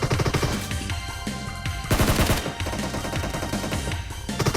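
Rapid automatic fire from a Groza rifle in PUBG Mobile, loud and close, rattling in dense bursts almost without pause, with a heavier cluster of shots near the middle.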